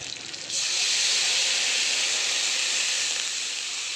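Water thinned with poppy-seed paste hits a hot pan of just-fried parshe fish, setting off a loud, sudden hiss that stays strong and steady, fading only slightly toward the end.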